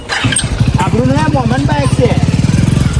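A motorcycle engine putters in a fast, steady rhythm while the bike is ridden along a road, loud and close, with a voice talking over it for part of the time.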